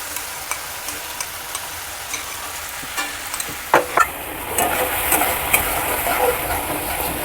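Masala frying in a pan with whipped sour yogurt added for Bengali doi katla, giving a steady close sizzle with stirring scrapes and small clinks that build louder and denser after the yogurt goes in.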